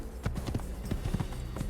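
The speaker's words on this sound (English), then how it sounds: "I think that's your original horse." Hooves of a horse in the Assassin's Creed video game clop in a steady trotting rhythm, close and distinct knocks repeating over a low background hum.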